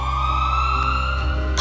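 A steady, loud, sustained tone like an emergency siren, unbroken throughout, with no speech.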